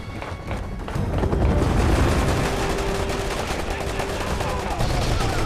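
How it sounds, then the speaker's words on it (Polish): Dense, rapid gunfire rattles continuously, like automatic weapons in the game Resident Evil 6, with thuds and booms mixed into a loud, busy soundscape. "Aha, słychać już strzały."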